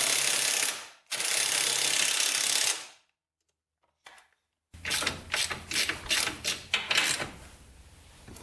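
Ratchet wrench working on the brake bolts of a Honda 200X motorcycle; a burst of loud rattling clicks comes first, then a pause, then a quick rhythmic series of ratcheting strokes, close up.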